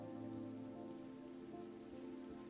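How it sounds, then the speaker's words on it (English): Rain in the video game Road 96, a quiet, steady, even patter of drops on a surface that holds constant throughout, with no voices. "Let's wait out the rain in the booth."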